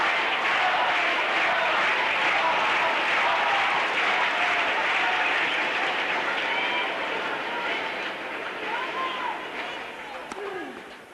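A tennis crowd applauding at a match featuring Becker, a dense, sustained roar of clapping that holds steady and then fades slightly toward the end.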